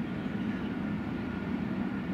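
A steady low rumble and clatter of a train rolling past at moderate distance, continuous throughout with no voices.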